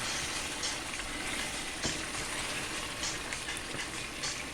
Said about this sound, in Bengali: এখন মাংসটা আস্তে আস্তে কষাইতে হবে।